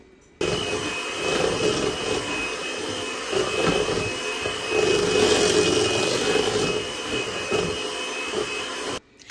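Electric mixer beaters whip sweet potato pie filling in a bowl with a steady, whining motor drone that starts abruptly, runs for several seconds with some rising and falling, then cuts off near the end, with no talking.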